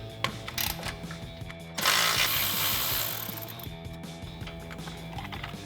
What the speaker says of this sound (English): we can grab a 10 millimeter socket to remove our bolt